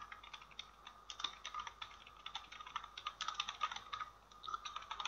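Fast, steady typing on a computer keyboard while entering user details into business software, with close, moderately quiet clicks in irregular bursts.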